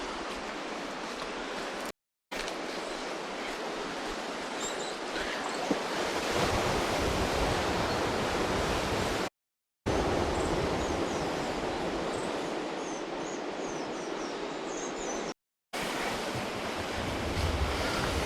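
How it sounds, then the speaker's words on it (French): Ocean waves crash onto the rocky shore at Sainte-Rose, Réunion, in a steady broadband roar with gusts of wind hitting the microphone, broken by a few short dropouts. "Et puis les vagues avec les rochers."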